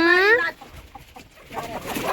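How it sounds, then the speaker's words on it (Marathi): A Kadaknath hen on a farm gives a loud, rising squawk up close, followed by quieter scattered clucks and rustling. "सगळ्या कडकनाथच आहेत इकडं कोंबड्या तिकडं कोंबड्या"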